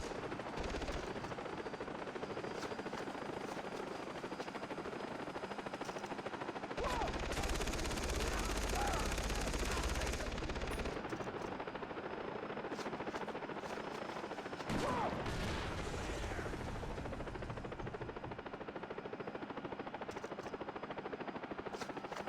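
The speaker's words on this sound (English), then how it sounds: "I don't know who was shooting at me." Distant, continuous gunfire in the video game Far Cry 3 rattles under a droning engine like a helicopter's, with a louder, thicker burst of fire partway through. Nothing stands out clearly above the din.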